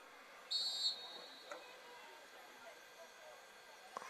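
A referee's whistle blows once at a high-school tournament field hockey game, a short shrill blast over faint outdoor ambience with a distant voice.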